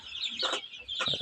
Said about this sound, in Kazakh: Бұлар қазір чисто рост жеп жатыр, жердегі балапандар.